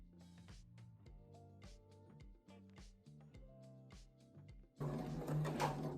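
A domestic sewing machine stitches a straight seam in a beginner's sewing lesson, its needle chattering in quick repeated bursts with short pauses between runs, then a louder, denser whir near the end; no talk.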